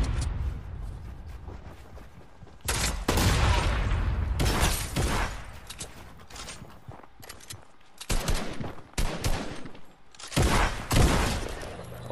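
Shotgun blasts in the Fortnite Battle Royale video game, loud bursts of gunfire in several clusters with sharp reports and chaotic in-game action between them, no talking.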